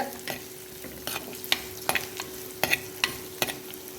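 Curry leaves sautéed in oil in a clay pot, with a soft steady sizzle under repeated sharp spoon scrapes and taps at an uneven, roughly half-second rhythm, close and without voices.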